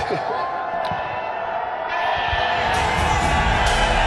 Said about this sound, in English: Well, all the Zalmi fans over here love you. They've been cheering for you.